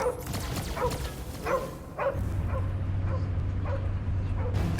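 Cosmo the dog in the video game Guardians of the Galaxy barks and whimpers in a series of short yips and whines, several repeated calls over a low rumbling game background, no clear speech.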